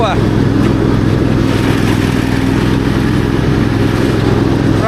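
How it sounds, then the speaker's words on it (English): A sit-on lawn mower's engine runs steadily and loud throughout, a continuous low mechanical drone with no break. "The joys of being able to cut my own lawn on a sit-on mower."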